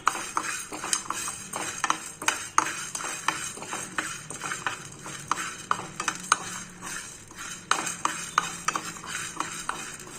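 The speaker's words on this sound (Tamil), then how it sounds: "மல்லி விதை அதை நம்ம சேர்த்துக்கலாம் மல்லி விதை சேர்க்குறது ரொம்ப வாசனை டேஸ்ட்டு நல்லாயிருக்கும் இதை நல்லா வறுத்துக்கலாம்" Coriander seeds are dry roasted in a pan and stirred constantly, giving a rapid, irregular run of dry scraping and rattling clicks over a faint background hiss.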